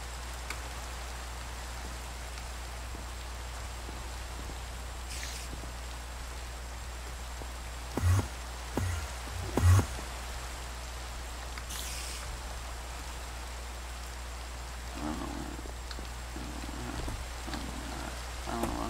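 Steady rain falls in a video game, a constant soft hiss with a low rumble beneath, broken by a few brief thumps and light pattering taps near the end.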